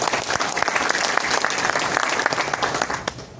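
Audience applause at an indoor DXN program gathering, a dense sustained burst of clapping from a crowd that stays loud and even before tapering off at the end.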